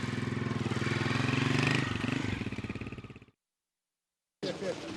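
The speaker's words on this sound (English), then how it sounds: "Big time motorcycle coming through." A motorcycle passes close by, its loud pulsing engine note rising then fading away before cutting off, with a voice partly over it.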